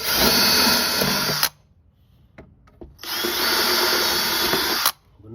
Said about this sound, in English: I'm just going to drill the holes through here